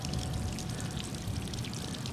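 Water pouring and gurgling steadily from the drain of a water heater being flushed of yellowed, sediment-laden water, a continuous close, rushing stream with no talk.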